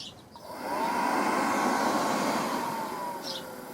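Hcalory A01 diesel heater running on diesel in an empty-case DIY build, its steady fan-like whoosh swelling up and holding as it starts, with faint clicks over the top and no talking.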